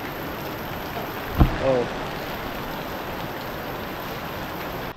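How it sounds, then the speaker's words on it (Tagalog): Heavy rain pours down in a Philippine seaside setting, a steady hiss of drops on surfaces, interrupted near the middle by a brief sharp knock and a short vocal exclamation. "lakas ng ulan ngayon dito."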